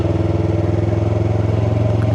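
A Yamaha R3 motorcycle engine holds a steady, high-pitched buzzing drone at high revs, close and loud throughout, with no voices.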